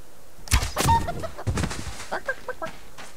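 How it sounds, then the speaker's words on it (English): A chicken in a video game clucks in short, choppy bursts, loud at first and then a few quicker, softer clucks. "Oh, hello, Mr. Chicken"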